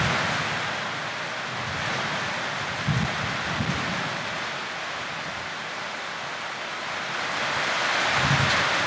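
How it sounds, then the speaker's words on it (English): Heavy rain and wind in Panama, a steady dense roar of rain with gusting wind noise buffeting the microphone throughout. "The rain makes me thirsty. I feel the thunder in my soul."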